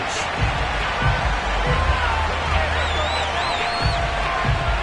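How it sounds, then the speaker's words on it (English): A sold-out stadium crowd in a Madden football video game roars in a steady, loud wash of cheering and whistles for the Cincinnati Bengals, with a commentator's voice running over it. "Bengals took the field to the delight of his sold-out crowd"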